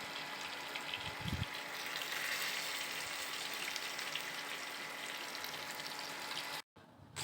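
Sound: soaked soybean chunks frying with potatoes

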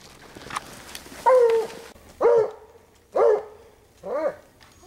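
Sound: coon hunting dog barking on a snowy night hunt

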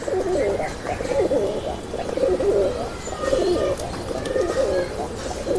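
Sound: male Sundari pigeon cooing

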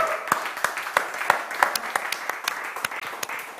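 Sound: applause

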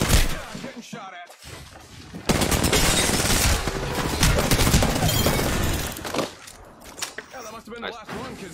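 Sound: gunfire in a video game

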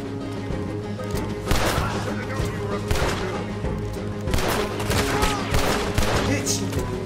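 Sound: gunfire in Red Dead Redemption 2 video game

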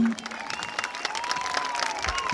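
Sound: festival audience applauding

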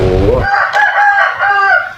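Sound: chicken crowing

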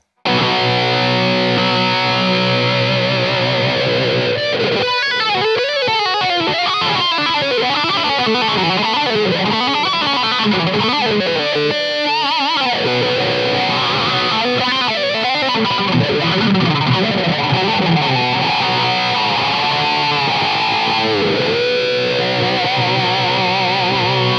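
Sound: electric guitar effect through heavily overdriven Budda amplifier

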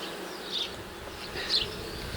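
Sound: honeybees buzzing at hive

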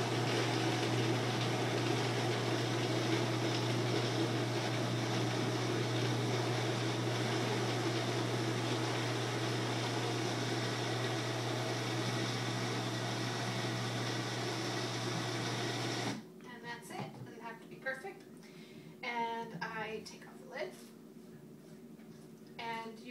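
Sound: blender blending dates, not a Vitamix

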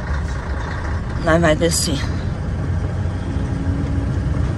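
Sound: truck engine while downshifting gears

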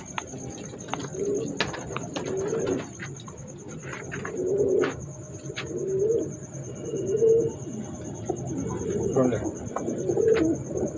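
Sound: star pigeons cooing

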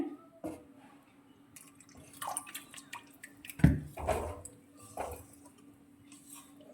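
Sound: small amount of water poured into spice mixture

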